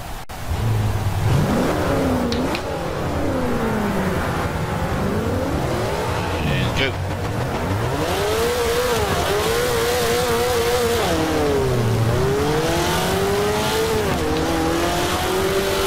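Race car lapping the Nurburgring Nordschleife in the video game Forza 5, a loud close engine repeatedly revving up through the gears and dropping on downshifts, with brief tire squeal, continuous throughout.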